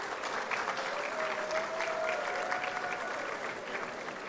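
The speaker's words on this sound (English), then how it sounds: "Please give them a round of applause." A large hall audience at a university graduation ceremony in Ghana claps steadily, a dense, even wash of applause heard from a distance at moderate volume.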